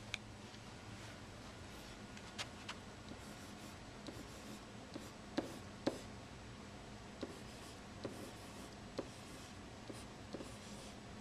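A student writes on a classroom smart board, giving a quiet run of faint taps and marker-like strokes with scattered sharper ticks over low room hum, with no talking.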